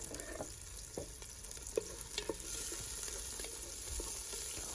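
Sliced onion fries in hot red oil in a saucepan, a soft sizzle with a few light clinks that grows into a fuller, steady hiss about halfway through.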